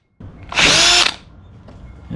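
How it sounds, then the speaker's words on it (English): A power drill bores out a rivet cap during installation of a steering stabilizer on a 2024/2025 Kawasaki Ninja ZX6R, one close, loud high whine lasting about half a second, then a quieter tail with faint handling noise. "So we're just going to keep drilling a tiny bit more."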